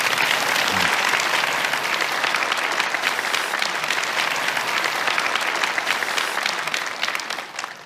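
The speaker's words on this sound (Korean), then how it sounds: "여러분 큰 박수 보내주십시오." Audience applause at a stage event, as a father is welcomed on for his paralysed singer son, a loud, dense burst of clapping from a large crowd that holds steady and eases off only at the very end.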